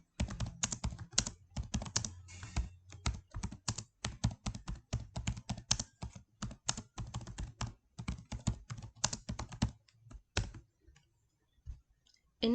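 Rapid clattering keystrokes on a computer keyboard as a question is typed in, steady bursts of clicks close by for most of the stretch, thinning out near the end.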